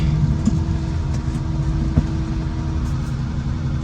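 A restored old vehicle's engine runs at a steady low idle close by, a continuous rumbling hum with a few faint knocks and clicks mixed in.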